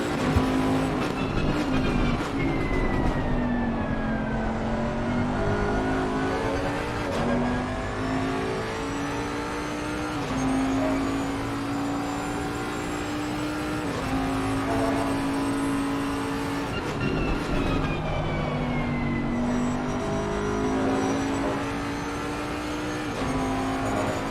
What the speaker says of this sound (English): Only engine sound.